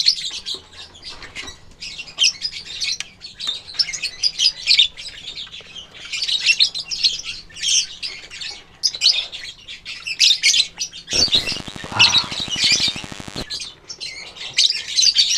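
African lovebirds in a breeding cage chirp and squawk continuously in bright, rapid bursts, close and fairly loud, with a brief flutter of wings partway through and no talk.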